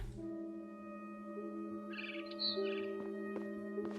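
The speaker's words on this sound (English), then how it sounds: "Then I heard chirping outside my window." Bright barn swallow chirps in a couple of short bursts over a steady electronic hum and soft tones, fairly quiet overall, in the video game What Remains of Edith Finch.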